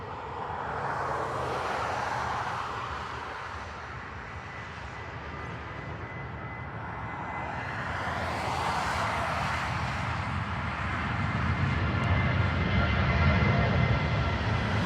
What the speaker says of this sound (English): It's a Southwest 737.